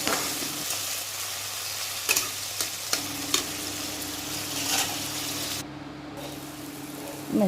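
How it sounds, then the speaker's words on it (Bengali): Whole garam masala, dried chillies and ground spices sizzle in a little hot oil for a cauliflower-and-prawn curry, with a steady frying hiss and occasional scraping stirs of a spoon in the pan, close and continuous. "তেলের মধ্যে মশলাটা দিয়ে দিলাম মশলা দিয়ে ভালো করে কষে নিলাম"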